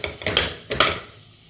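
Dates roasting in a pan for no-sugar dry fruit ladoo, softened as they cook, with a few quick scraping stirs against the pan over a light sizzle, close and brief.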